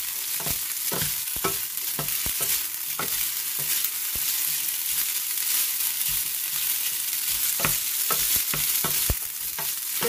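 Spaghetti noodles are stirred with butter in a hot pan, a continuous sizzle with repeated scraping, clacking strokes scattered unevenly throughout.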